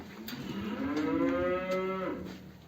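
A single long, loud moo from cattle in a snowbound village barn in Çalıkağıl, Yayladere, where the animals are thin from a shortage of feed. The low call swells and then fades over about two seconds, close by, with no speech.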